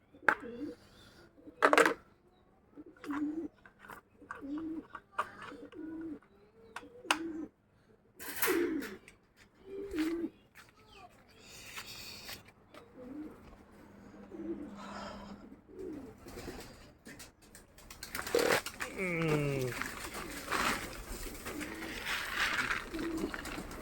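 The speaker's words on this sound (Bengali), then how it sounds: "এই পাশে স্পেশাল কবুতর" Pigeons coo in a pigeon house, soft repeated coos in a steady rhythm with sharp clacks and knocks between them, and a brief human voice near the end.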